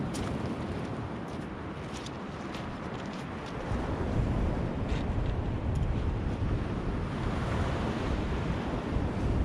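Waves breaking on an Irish beach on a cold January night, a steady broadband wash of surf with wind noise on the microphone, swelling slightly louder partway through, with no voices.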